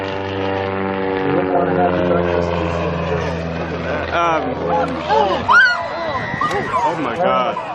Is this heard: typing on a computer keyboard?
no